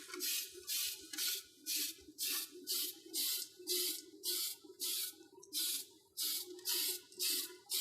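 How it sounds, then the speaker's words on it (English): An aerosol can sprays clear gloss onto a part in a dozen rhythmic bursts of hissing, each about half a second, close and steady, with brief pauses between passes. "Now notice I'm spraying back and forth, not really staying in one spot so the paint doesn't really pool."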